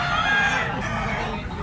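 A young gamecock stag crows loudly and close, one sustained strained call filling the short moment with barnyard noise behind it.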